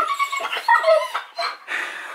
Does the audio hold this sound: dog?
yes